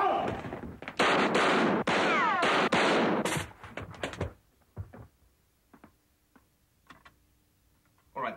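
A rapid burst of handgun shots fires in a dense volley for about three seconds, loud and close, followed by scattered sharper cracks and knocks trailing off into quiet.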